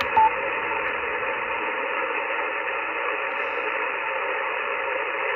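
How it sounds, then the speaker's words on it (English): Steady broadband radio interference hiss and buzz from a Yaesu FTX-1 ham receiver with its noise blanker engaged, a dense continuous static with faint tonal hum, level and unbroken throughout. "Yeah, noise blanker struggles with this kind of noise."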